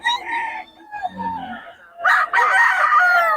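A rooster crows loudly at a chicken market in Bocaue, two long strained calls close by, with softer clucking and low fowl noises between them.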